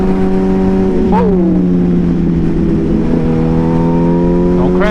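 Motorcycle engine droning loudly during a ride, with a steady tone and brief throttle blips rising in pitch, close up and continuous, with wind noise throughout.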